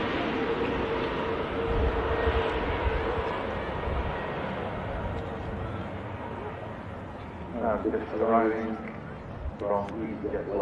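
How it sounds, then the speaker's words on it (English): An Airbus A320neo airliner lands on runway 23 right at a busy airport, a steady broadband roar that holds for the whole stretch while a voice talks over it near the end. "Gracefully landing there on runway 23 right, the Airbus A320 Neo"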